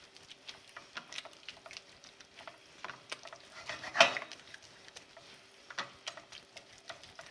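A spoon stirring creamy risotto in a pan over higher heat, giving quiet repeated scrapes and soft taps with one sharper knock near the middle, low and close.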